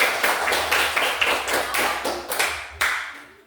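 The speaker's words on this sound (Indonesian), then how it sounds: "sekarang tepuk tangan untuk kelompok satu" A small group claps for the first group of students, a few seconds of brisk, close hand claps that thin out and fade toward the end.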